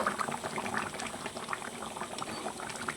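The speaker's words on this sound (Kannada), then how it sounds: "ಇದು ಕೊತ ಕೊತ ಅಂತ ಕುದ್ಬಿಟ್ಟು ರೆಡಿಯಾಗಿದೆ." Cucumber-seed and basella greens curry boils steadily in a pot, a close, continuous bubbling with dense popping and gurgling and no voices over it.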